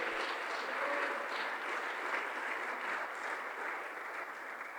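A church congregation claps their hands in praise, steady dense applause from many people filling the room for several seconds with no speech over it.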